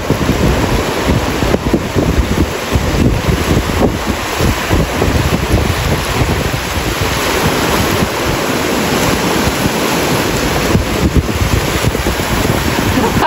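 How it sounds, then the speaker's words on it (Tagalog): Ocean surf rolls in at Byron beach, a steady broadband wash of waves that runs the whole time, heavily buffeted by wind noise on the microphone and with no voices. "Tingnan niyo yung waves guys."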